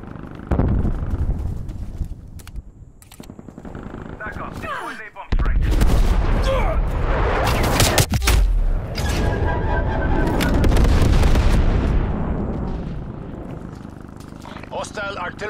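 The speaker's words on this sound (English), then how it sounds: "Hostile artillery targeting active. Artillery inbound." Heavy artillery strikes in Call of Duty Black Ops Cold War multiplayer land as loud, booming explosions that roll through a dense wash of battle noise, with sharp cracks and rumbling continuing for several seconds.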